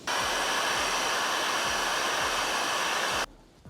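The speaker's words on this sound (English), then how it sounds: "Get the heat gun, blend the corners in." A heat gun blows a loud, steady, close rushing hiss while it blends the corners of sculpting material, then cuts off abruptly near the end, leaving a quiet tail.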